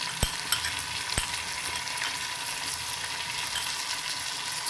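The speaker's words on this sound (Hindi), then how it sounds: "इस टाइम पे मैं डालूँगी ये अदरक लहसुन की पेस्ट।" Ginger garlic paste frying in a pan with oil for fried chicken pulao, a steady broadband sizzle with a couple of sharp clicks near the start, close and continuous with no talking.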